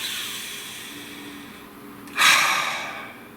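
A single deep breath is drawn close to the microphone. A soft, hissing intake builds over two seconds, then a sharp, louder airy rush of breath is followed by a gentle tail-off.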